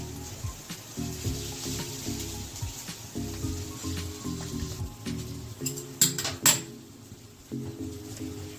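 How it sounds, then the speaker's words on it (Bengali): Rohu fish cutlet mixture with fried spices, salt and sugar cooking in a pan: soft sizzling with repeated stirring scrapes and a couple of sharper clinks near the end, fairly quiet. "এইবার এতে আমি একটুখানি ভাজা মশলা দিচ্ছি।"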